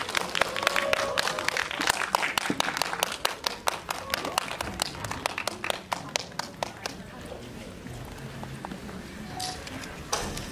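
A cinema audience claps for a film director and two actors arriving for a stage greeting at a movie theater: lively, close applause that gradually thins and fades over the second half.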